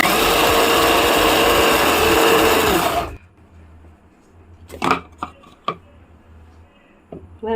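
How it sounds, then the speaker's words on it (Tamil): A mixer grinder blending mango whirs loudly and steadily for about three seconds, then shuts off, leaving a few scattered clinks and knocks. "இப்போ இதை மிக்ஸி ஜார்ல போட்டு நல்லா நைஸா அரைச்சிட்டு வந்துடணும்"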